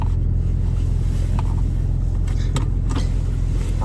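A 900 bhp BMW M4 Competition's engine drones in a constant low rumble heard from inside the cabin while driving, with road noise and a few light clicks and rustles on top.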